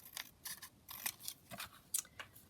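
Scissors snip paper for a handmade junk journal, trimming a corner tuck; several short, crisp cuts come in an uneven rhythm, close and fairly quiet, with no talking.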